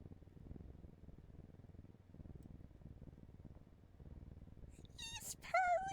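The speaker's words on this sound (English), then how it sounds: "He's purring! Oh my god, okay. He's purring!" Purring sound effect from a yandere visual novel game: a low, steady, rhythmic rumble running throughout, joined near the end by a brief, higher whimper-like tone.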